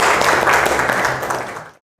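A class of students gives a short burst of applause for a group that has just presented, dense clapping from many hands that fades out after under two seconds.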